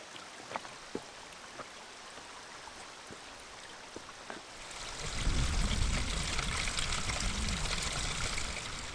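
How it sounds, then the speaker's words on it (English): A mountain stream and waterfall on a winter hike in Snowdonia, a steady broadband rush of water that swells louder partway through as the flow comes nearer. "This is that stream slash waterfall that we looked at in the distance"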